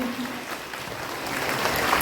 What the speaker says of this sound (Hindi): ताली की आवाज जोर से आनी चाहिए